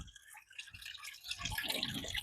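Water trickles and drips faintly and continuously from a small homemade waterfall into a garden pond inside a polytunnel.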